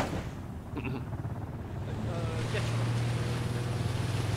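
A boat in the video game Ring of Elysium makes a steady, droning motor hum with wind and water wash that builds slightly and stays close, while faint voices sit underneath.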